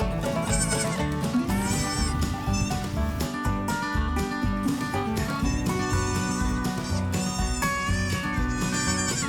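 Goats bleat repeatedly in a busy pen at Grant's Farm, overlapping cries rising over steady background noise.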